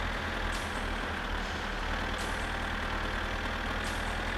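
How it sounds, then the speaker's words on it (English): Loud tractor engine in the My Summer Car driving game, a steady, heavy drone that fills the whole stretch without a break and has faint higher chirps recurring over it. "the absolutely deafening tractor noise is going on in the background"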